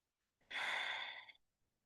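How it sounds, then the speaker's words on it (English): A single long, breathy exhale from a slow breathing exercise is heard close and soft, a smooth airy rush that tapers off after about a second with no talking. "just do the exhale twice as long as the inhale"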